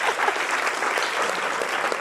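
A room full of people claps together in a dense, steady burst of applause for a speaker at a talk.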